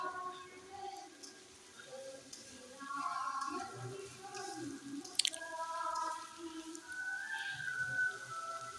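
Bitter gourd and potatoes fry in hot oil in a pan on a gas flame, with a soft, steady crackle and sizzle and a few sharper pops, close and moderately quiet, under faint background sounds.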